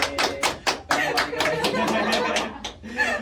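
A small group clapping for the Ambalan scout seniors at SMK Galajuara, a few seconds of uneven nearby claps mixed with light chuckling and talk.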